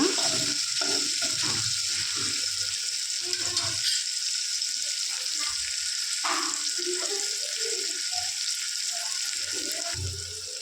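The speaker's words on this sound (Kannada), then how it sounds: "ಶುಂಠಿ ಮತ್ತು ಬೆಳ್ಳುಳ್ಳಿ ಹಸಿ ವಾಸನೆ ಹೋಗಬೇಕು ಅಲ್ಲಿವರೆಗೂ ಚೆನ್ನಾಗಿ ಫ್ರೈ ಮಾಡ್ಕೊಂಡು ಬಿಡೋಣ" Ginger and garlic fry in a pan over a medium gas flame for crab curry, giving a steady, close sizzle with brief soft talking and stirring sounds over it.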